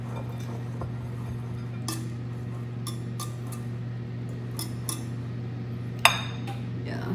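Light scraping and clinking of a utensil against a bowl as chocolate is slowly stirred in by hand for a protein Nutella soufflé, with scattered small taps over a steady low hum.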